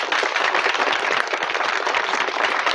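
Steady applause from a crowd, dense clapping at an even level throughout with no voices over it.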